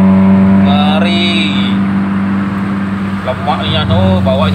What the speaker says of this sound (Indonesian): Oh, sangar dia knalpotnya.